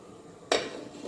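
Rice and pigeon peas tipped into a metal pressure cooker, giving a single sharp clank of the pot followed by a brief rattling settle, close and alone with no talk.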